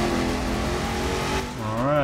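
Supercharged Hellcat engine roaring in The Crew 2 as the car drifts, a loud steady drone whose pitch sweeps up and down near the end, with someone talking over it.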